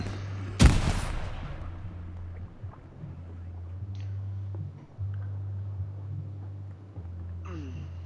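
A frag grenade goes off in a multiplayer video game, one loud broadband blast near the start that rings down over a second, leaving a steady low engine-like drone and scattered faint in-game noises behind it.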